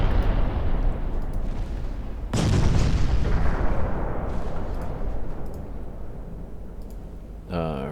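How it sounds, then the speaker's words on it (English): A torpedo strikes a ship in the naval game Ultimate Admiral Dreadnoughts: a sudden, heavy explosive boom that rumbles and slowly fades over several seconds, followed by a brief sharper crack near the end. "Another torpedo hit."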